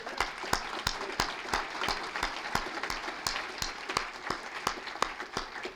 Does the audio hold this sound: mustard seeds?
no